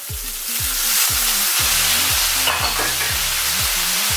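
Tofu in a frying pan hisses loudly as soy sauce is poured in, the sizzle swelling into a dense, bright steam burst midway, then settling into steady close crackling with no talking.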